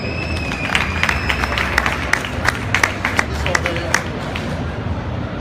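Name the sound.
audience applause welcoming a speaker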